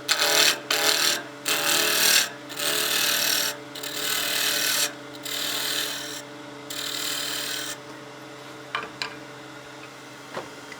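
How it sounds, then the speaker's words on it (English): A spindle roughing gouge cuts into a spinning wood blank on a lathe, making loud, raspy bursts of shaving that start and stop repeatedly over a steady motor hum, then fade to quieter scraping. "we got our spindle roughing gouge. We're going to start roughing this down"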